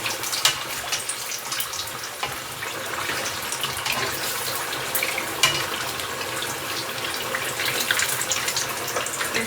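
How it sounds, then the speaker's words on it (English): Halibut pieces fry in oil in a pan, a steady, loud hiss and crackle of sizzling that holds evenly throughout with no voices. "And we'll fry this for about 4 minutes."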